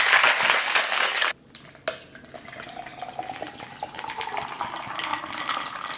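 Almond milk and ice poured into a cup for a homemade Starbucks-style drink, a bright rushing pour for about a second, then a clink of ice and a gentle continuing trickle.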